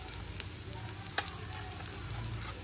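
Onion, garlic, ginger and green chilli paste fried golden brown sizzles steadily in a pan as ground spices go in, with a couple of sharp clinks and low stirring underneath.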